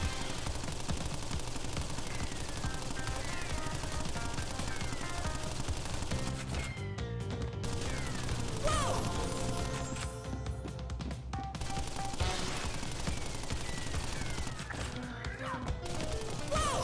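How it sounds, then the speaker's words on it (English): Tommy gun fire from Pinstripe Potoroo in Crash Bandicoot, steady rattling bursts within busy game music and effects, dense and continuous, with little or no talk. "His Tommy gun isn't always reliable."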